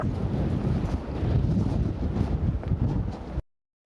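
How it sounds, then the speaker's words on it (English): Strong Palm Springs wind batters a microphone outdoors, producing a steady, loud buffeting rumble for several seconds before cutting to silence. "The winds are so strong here in Palm Springs that it caused the stoplight to even break."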